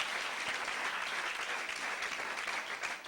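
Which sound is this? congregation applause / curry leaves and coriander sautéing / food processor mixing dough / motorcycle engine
congregation applause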